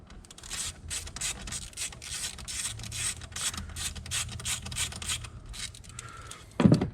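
Removing a 10mm mounting bolt on a 2022-2026 Toyota Tundra: close, steady rubbing and scraping of a wrench working the bolt, with repeated short strokes and a louder clunk near the end.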